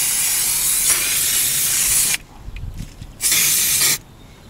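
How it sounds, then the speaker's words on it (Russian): LAVR aerosol plastic polish-restorer sprayed from a can held 20-30 cm away, giving two loud, close hissing bursts, a long one and then a shorter one, separated by a quieter pause. "Берем баллон и с расстояния 20-30 сантиметров распыляем."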